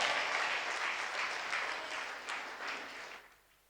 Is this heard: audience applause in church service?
yes